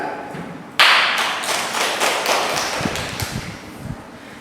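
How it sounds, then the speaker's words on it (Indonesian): Classroom applause after a group's paper presentation at a university lesson, a burst of clapping from a small group that starts suddenly, stays loud and steady, then thins into scattered claps. "Kita beri aplaus terlebih dahulu atas presentasi yang sudah disampaikan."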